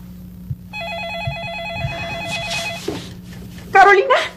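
A telephone rings with a warbling electronic trill in a Mexican film scene, a steady repeating tone running under low background sounds, followed by a brief louder burst near the end.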